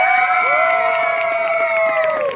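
An outdoor audience in Balboa Park cheers loudly, with high sustained shouts and whoops from many voices, children among them, rising together and holding close and strong throughout.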